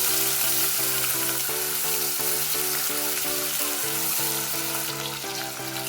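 Two medium onions fry on medium heat with whole spices and bay leaf in a pan for Ambur-style mushroom biryani, giving a steady, close crackling sizzle that runs throughout over a low tonal background.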